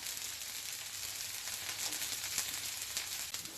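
Oil spread onto a rava dosa cooking in a pan over a low flame produces a soft, steady sizzling hiss, faint and even throughout with only slight flickers of crackle.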